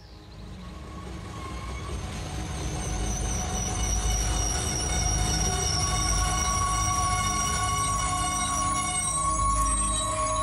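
A train rolls along the rails at a steady pace with a deep rumble and thin squealing tones from the wheels. It grows louder and stays even and continuous, and nobody speaks.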